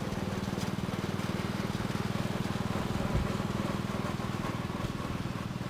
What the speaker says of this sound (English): This next tractor that Hudson Locke is driving is a wheel horse tractor